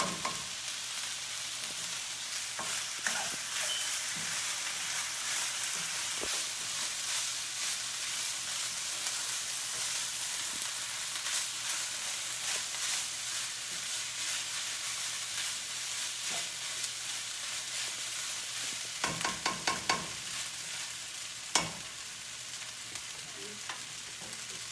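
Peas heating in a hot pan for Lowcountry Geechee hoppin' John give off a steady, soft frying sizzle that runs unbroken for the whole stretch, with a few faint clicks and pops late on and no voices.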